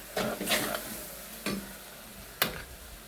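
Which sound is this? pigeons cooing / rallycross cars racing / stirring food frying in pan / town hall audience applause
stirring food frying in pan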